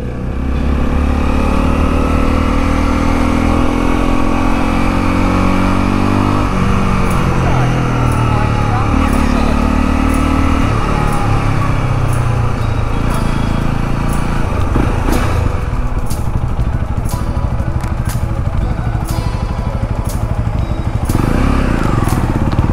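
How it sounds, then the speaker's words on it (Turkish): Honda CL 250 Scrambler motorcycle engine revving hard while riding, a loud, close, continuous drone that rises and falls through the gears with wind rush, and no talk over it. "Şöyle bir ara gazı verelim. Çok güzel ses çıkartıyor bu arada."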